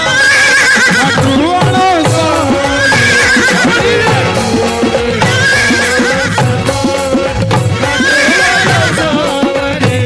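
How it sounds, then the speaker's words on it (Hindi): A horse neighs loudly amid dense dramatic music, its whinny recurring over a thick instrumental bed, setting a battle-march scene of riders heading to war. "घोड़े"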